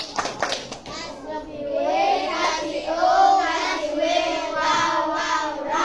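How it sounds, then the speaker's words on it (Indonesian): Young schoolchildren in a classroom chant the tepuk wow clapping rhyme together, their voices rising into a rhythmic group chant punctuated by hand claps, close and lively. "Mari kita tepuk wow bersama-sama ya, tepuk wow."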